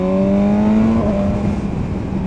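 A 2017 BMW S1000R motorcycle with an Akrapovic exhaust, fitted with a removable EU4 baffle, revs up loudly with a climbing engine note, then falls away into a rougher idle burble.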